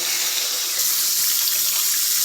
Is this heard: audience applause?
no